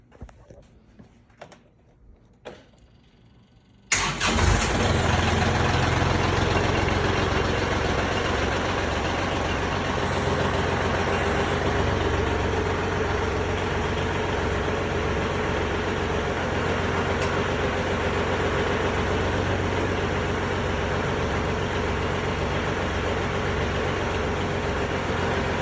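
A Kubota L3901 tractor fitted with a BH77 backhoe starts after a few clanks, then settles into a loud, steady, rumbling diesel idle that continues without a break.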